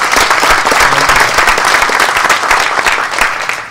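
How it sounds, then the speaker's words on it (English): Audience applause for museum staff and volunteers at a Tesla Days event at a science museum, a loud, dense, continuous wash of clapping filling the whole moment with no talk over it. "so I'd like to give them a applause."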